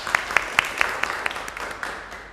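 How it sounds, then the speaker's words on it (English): A classroom gives a student a round of applause, a short burst of sharp, fairly close claps that starts distinct and rhythmic and then thins and fades within a couple of seconds. "Give applause for your friend."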